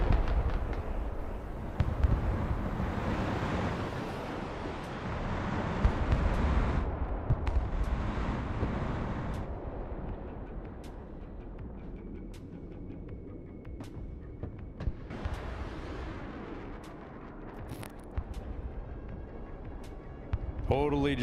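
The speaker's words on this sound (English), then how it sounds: "Is that cruise missiles? Yeah, it's a Yep. cruise missile." Cruise missile strikes explode in the Broken Arrow war game, a dense run of rumbling blasts and crackling bursts that swell and fade over about twenty seconds, loud and sustained with sharp transients near the end.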